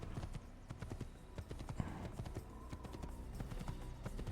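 Horse hooves clip-clop steadily in the Assassin's Creed video game, a moderately loud repeating trot set against a busy bed of game ambience and occasional background sounds.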